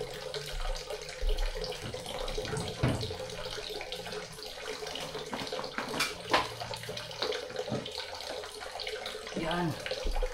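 Tap water pours steadily into a container to soften plant cuttings, a continuous running splash with occasional clinks, no talk.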